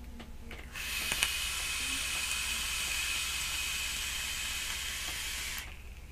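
Steady airy hiss of a draw through a SAMO RDA rebuildable dripping atomizer with its airflow set halfway open, one continuous pull of about five seconds, close and alone.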